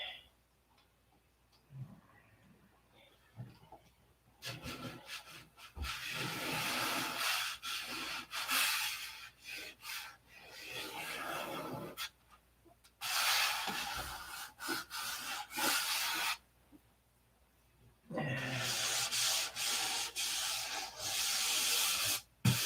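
Hand sanding of car body filler rasps in several long bursts of steady back-and-forth scrubbing, separated by quiet pauses, close to the listener.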